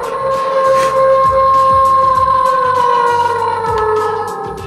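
A steady, wailing electronic animal cry from a toy, held tones sliding slowly downward, loud and continuous with a low clicking buzz underneath.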